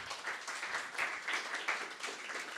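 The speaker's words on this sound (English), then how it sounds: "please, the audience, a big round of applause for our speakers." An audience at an energy performance workshop gives a steady round of clapping, moderately distant and sustained for the whole stretch.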